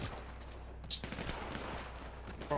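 Sustained gunfire during a heist in a GTA roleplay video game, a dense, steady crackle of shots with a few sharper bursts standing out, and faint voices mixed in underneath.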